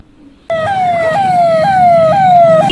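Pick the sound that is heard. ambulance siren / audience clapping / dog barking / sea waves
ambulance siren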